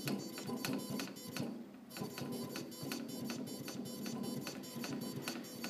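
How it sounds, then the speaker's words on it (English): An air conditioner's blower fan, about three years old and faulty, surging in a rapid repetitive pulsing pattern with a brief dip in the middle, steady and fairly faint with no talk. "I wanted to document this really odd behavior that this blower's doing."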